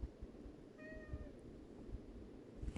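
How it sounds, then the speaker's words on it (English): A pet cat named Juggernaut gives a single short meow, fairly close and clear over a low, steady room background with no talking. "It's my kitty."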